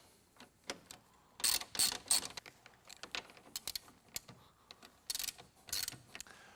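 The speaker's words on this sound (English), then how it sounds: "using a 1/2-inch socket, we're going to go ahead and remove the 2 front bolts and the 2 rear bolts that hold the seat" A ratchet with a 1/2-inch socket loosens the seat bolts on a Jeep TJ, giving short bursts of close, sharp clicking with brief pauses and scattered small metallic knocks between them.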